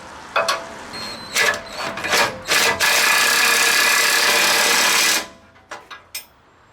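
A power tool tightens bolts on a Warn steel bumper for a bullnose Ford truck, giving short buzzing bursts that build into one sustained whirring run of about two seconds, then a few brief clicks.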